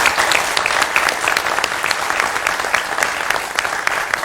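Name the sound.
studio audience applause welcoming a guest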